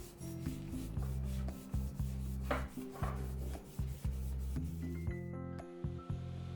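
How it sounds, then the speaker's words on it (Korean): Paintbrush quickly swiping gesso across a wooden piece, soft rhythmic back-and-forth rubbing strokes, close and quiet, with no talking. "글자가 없는 부분은 쉽고 빠르게 쓱쓱 칠해주고"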